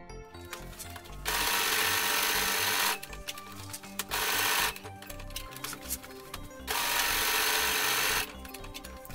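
Sewing machine stitching a baby cradle blanket, running in three loud sustained bursts with short pauses between, close and clear with no talk.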